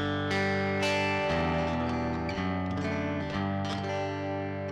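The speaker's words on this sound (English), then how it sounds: "So that's a Katana on its own." Electric guitar played through a Boss Katana amp with no cabinet emulation, heard alone as a sustained, dense distorted tone with strummed chords and bright, fizzy edges, loud and continuous throughout.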